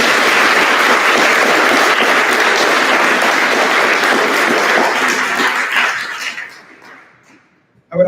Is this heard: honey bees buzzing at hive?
no